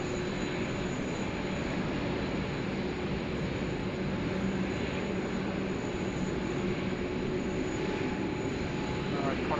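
A Qantas aircraft taxis at Sydney Airport during a thunderstorm, a steady, distant jet-engine rumble that holds evenly throughout against a dense wash of background noise.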